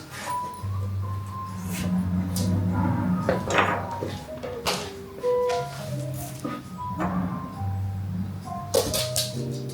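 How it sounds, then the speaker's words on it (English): Scones being set down one by one on a baking pan while making a batch of scones: a series of light, close knocks and taps at an uneven pace, with a low hum and a little talking in the background. "I'm going to place them on the baking pan like so."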